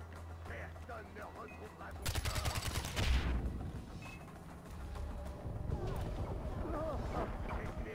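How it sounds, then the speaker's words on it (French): Heavy machine gun fire in Far Cry 4, a burst of rapid broadband shots around the middle of the stretch amid a busy game mix, with a continuous low rumble and scattered ambient noise before and after. "Là ça me tire dessus à mitrailleuse lourde."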